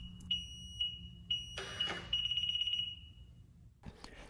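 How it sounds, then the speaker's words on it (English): A Honda Goldwing handlebar lock gives a series of sharp, high electronic beeps: three short evenly spaced chirps, then a longer sustained tone, close and clear over faint background rumble. "A single beep indicates that the handlebars are successfully locked."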